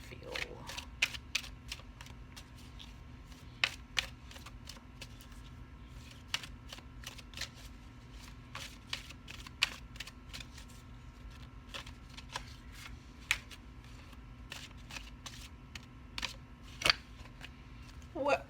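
A deck of tarot cards being handled and shuffled at close range, with repeated crisp riffles and soft snaps spaced unevenly through a quiet room, and a voice speaking at times.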